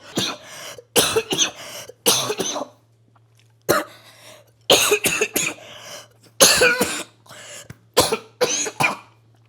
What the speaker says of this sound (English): I'm going to show you how bad the Tren cough actually is.